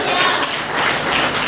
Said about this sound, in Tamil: கரங்களை தட்டுங்க.